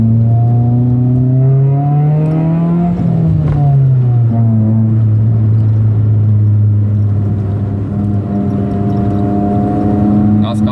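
A Chevrolet Celta 1.0 VHC-E running on ethanol with a cold air intake revs up, drops back and holds a loud, steady idle drone close by, with a voice speaking over it.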